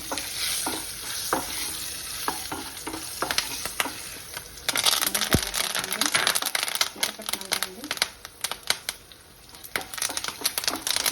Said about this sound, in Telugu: ఎండుమిర్చి, పచ్చిమిర్చి వేసాను. ఇప్పుడు అవి వేగాక కరివేపాకు వేసుకున్నాము.